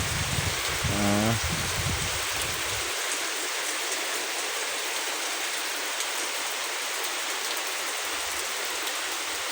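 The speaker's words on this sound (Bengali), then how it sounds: "আসলে বৃষ্টি হচ্ছে তো" Rain falls near a river facing the Sundarbans forest in a constant, even hiss of drops that continues throughout; a brief tonal call sounds near the start.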